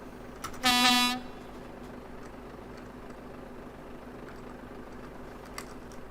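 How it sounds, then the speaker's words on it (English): A truck horn in Euro Truck Simulator 2 blares once, a short, loud tonal honk of about half a second, over a steady low engine idle that continues afterward. "Can you hear the truck beeping?"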